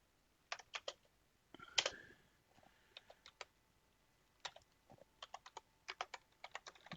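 Typing Python code on a computer keyboard, steady bursts of quiet, close key clicks in irregular clusters with short pauses, no talking.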